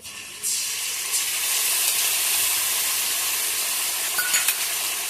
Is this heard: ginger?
yes